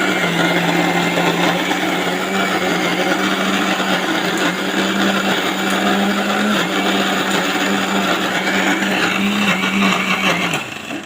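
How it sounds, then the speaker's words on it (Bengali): Mixer grinder blending pond water spinach (kalmi greens), a loud, steady motor whine with churning grit that runs on continuously without a break for the whole stretch, close up and alone. "পুকুরের কলমি শাক আজকে মিক্সার মেশিনে দিয়ে একটু বেটে নেবো"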